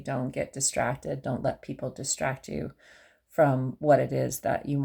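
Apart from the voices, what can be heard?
No everyday noise stands out behind the speech.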